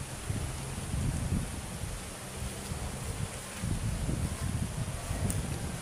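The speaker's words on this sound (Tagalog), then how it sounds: "malakas ang hangin dito." Strong typhoon winds from Typhoon Opong buffet the microphone and rustle dense trees in a steady, roaring low rumble, with gusts swelling and easing throughout and no voices.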